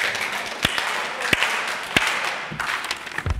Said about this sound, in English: Clap hands 4 times together.